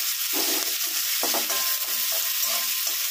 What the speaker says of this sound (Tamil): இந்த வெங்காயெல்லாம் நல்லா வதங்கட்டுங்க.